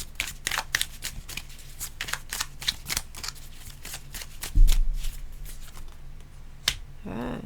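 Tarot cards being shuffled and drawn in a Sunday reading: a steady run of crisp, rapid card flicks and riffles, fairly close, with a louder thump near the middle and a brief voice at the end.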